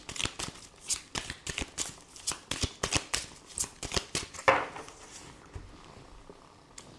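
Oracle cards are shuffled by hand in a quick run of crisp riffling bursts, close and fairly loud, the rhythm slowing and thinning toward the end with no talk over it.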